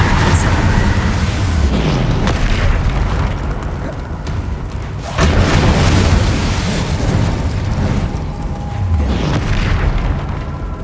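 Confringo fire spells explode in combat in the video game Hogwarts Legacy. Loud, deep booms burst out several times with rumbling tails in a dense, continuous battle mix.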